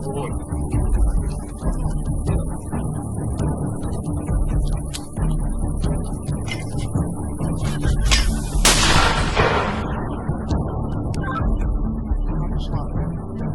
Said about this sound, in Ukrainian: ви кидаєте міну і буквально секунда, і, і вже постріл